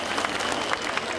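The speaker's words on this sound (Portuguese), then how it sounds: "Vamos bater mais palmas" A festival crowd at an outdoor June arraial in a town square claps in sustained, dense applause, a continuous wash of many hands heard briefly and fairly close.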